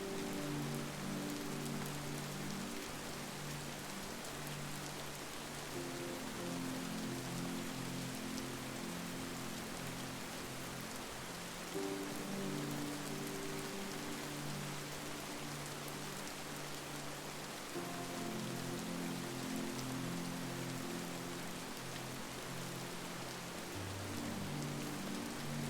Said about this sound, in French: La pluie aussi.